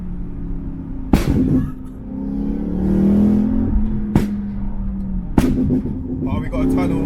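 Stage 2 BMW M3 with a new exhaust, heard from inside while driving: engine drone rises and falls under acceleration, broken by three loud sharp exhaust cracks or pops, with people talking over it.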